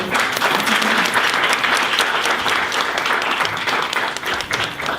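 An alumni reunion audience at Ivy Leaf School applauds after the school song, dense sustained clapping from a large crowd filling the room at steady strength throughout.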